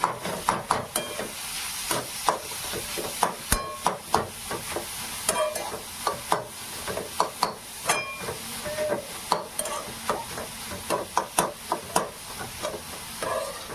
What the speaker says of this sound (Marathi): मस्त तळून घ्यायचं हे तुपामध्ये किसलेलं गाजर